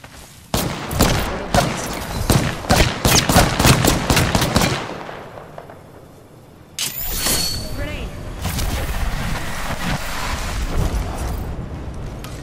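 Gunfire in the video game Apex Legends: a rapid burst of automatic shots for about four seconds, then a lull and a louder sustained rumble of weapon fire and effects, close and harsh.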